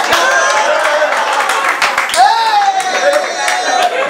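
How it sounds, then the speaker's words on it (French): Audience applause at the inauguration of a Bitcoin house headquarters in Cameroon, a loud, steady wash of clapping that fills the whole stretch, with a voice rising through the middle. "Hey, applaudissons pour le Dieu."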